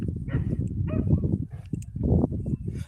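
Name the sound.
dogs barking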